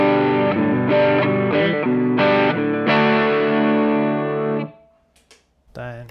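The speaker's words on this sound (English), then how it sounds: "just the low gain pedal," An electric guitar through a Suhr Shiba Drive low-gain overdrive pedal plays a short run of sustained notes and chords, then rings out and fades, followed by faint handling noise.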